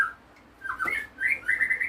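A white-rumped shama sings a few clear, varied whistled phrases with short pauses between them, fairly close and alone.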